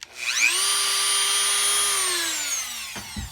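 A Dremel rotary tool whines up to a high, steady pitch as it cuts a small square hole in a cigar box for a guitar build, then slows and winds down; close, loud and alone.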